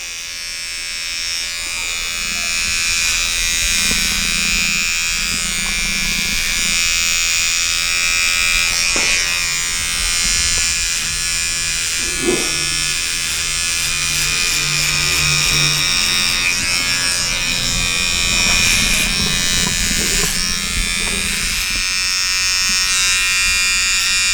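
Electric hair trimmer buzzing continuously and close up while cutting hair low for a skin fade, a steady high whine with small shifts in tone as it moves across the head.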